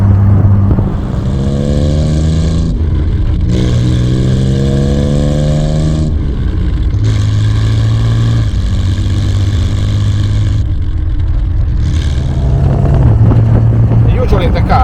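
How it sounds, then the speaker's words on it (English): A Triumph TR6's exhaust note rises and falls through repeated gear changes while driving, each pull climbing in pitch before a brief drop, loud and close, with some talking mixed in. "sound from the exhaust when you're driving"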